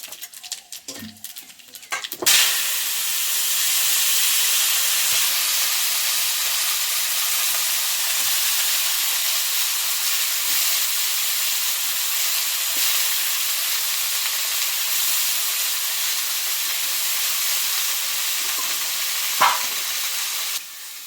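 Five-spice seeds hit very hot mustard oil in a red-hot iron wok, bursting into a loud, sustained roaring sizzle that holds steady for nearly twenty seconds after a few quiet clinks.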